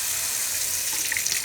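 Cold tap water pours steadily into a kitchen sink, a continuous bright rushing hiss with no talk, drawn for brining a turkey.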